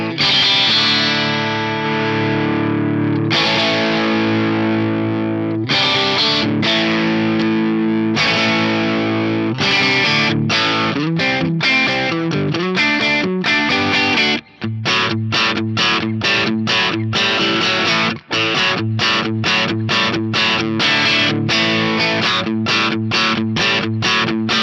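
Driven electric guitar runs through a Fractal FM3 tube-screamer-style overdrive in a parallel mode: loud sustained chords at first, then fast tight chugging strums with brief pauses, played alone.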